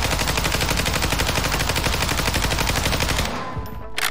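Lachman 556 assault rifle firing in a first-person shooter: one long, loud, steady burst of rapid automatic shots that stops abruptly near the end, with no talking.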